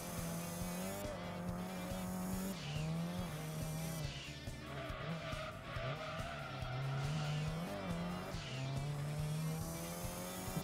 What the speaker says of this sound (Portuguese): Eu acho que esse Muscle Car ali deu um drift, olha, pessoal.